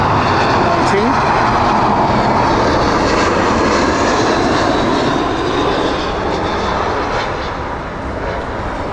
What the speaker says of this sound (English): The A319 that's just come in. That was the Newcastle shuttle service.